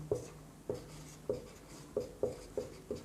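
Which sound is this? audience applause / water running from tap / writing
writing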